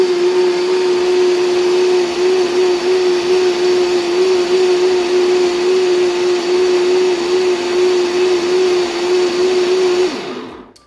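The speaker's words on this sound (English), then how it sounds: "I'm going to let that mix together now, whisk together for maybe 3 or 4 minutes so it's really smooth" An electric whisk runs continuously at a steady high whine while mixing blueberry cheesecake ice cream base, loud and close for about ten seconds before spinning down, with no talk.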